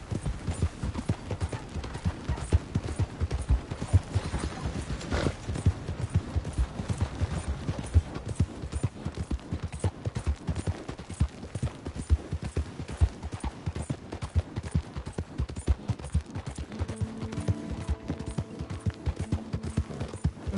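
Horse hooves clip-clopping steadily while being ridden in a video game, an even, continuous trot of close, distinct hoofbeats running the whole length, with a brief faint tonal bit near the end.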